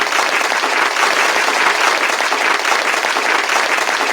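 Canned crowd applause played as a cue, a dense unbroken wash of many hands clapping, loud and even for several seconds.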